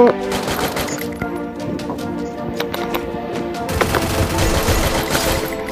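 Gunfire in the mobile shooter Free Fire: repeated bursts of rapid shots crackle over steady in-game background tones, growing denser and louder toward the end.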